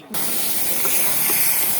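A sudden loud, sustained hiss as water hits hot oil after frying eggplant, bursting in abruptly and roaring evenly to the end.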